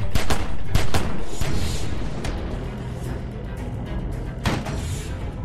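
Bursts of AK rifle gunfire in The Walking Dead Season 2 video game: several sharp shots early, with a dense, fairly loud rattle that fades into a busy background and ends on one more shot.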